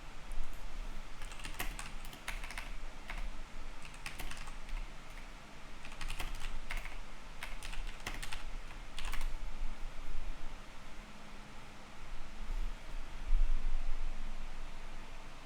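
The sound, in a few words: typing on a computer keyboard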